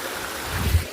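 Water rushing at Malla waterfall, a steady low rumbling flow that swells slightly toward the end, heard alone and close.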